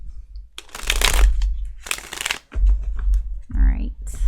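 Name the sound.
shuffling tarot cards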